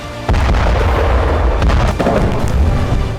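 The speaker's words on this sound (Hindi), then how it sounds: "इस बीच में लगातार धमाके की आवाज़ आ रही है" Heavy, continuous explosions from the Russia-Ukraine war rumble close by, one deep booming thud after another with no pause, loud and dense throughout.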